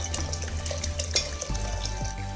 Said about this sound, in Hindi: अब इसमें हम पानी डालेंगे गलाने के लिए।